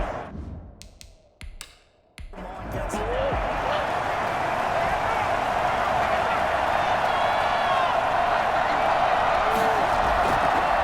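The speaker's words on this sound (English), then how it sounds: "The crowd may be losing just a little bit of the edge after back-to-back punts." Steady, dense roar of a stadium crowd in the Madden 21 football video game during an NFC Championship between the Cardinals and Packers, swelling in after a brief dip and continuing unbroken with faint clapping.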